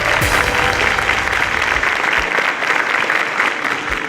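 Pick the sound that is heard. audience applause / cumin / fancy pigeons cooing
audience applause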